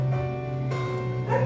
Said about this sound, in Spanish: A ver si nos salen ladridos de una perrita